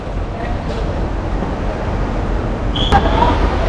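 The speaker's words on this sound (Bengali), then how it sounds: "আমাদের মনে হয় ট্রেন ছেড়ে দিচ্ছে" A continuous low rumble of a train departing a station in Bangladesh, with a brief high screech of wheels or brakes near the end.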